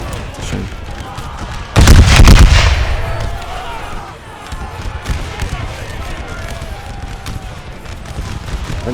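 A loud crashing musket volley from massed Civil War infantry in ranks at Gettysburg in a game mod, one big blast fading into scattered crackling shots and battle noise, with a voice talking over it.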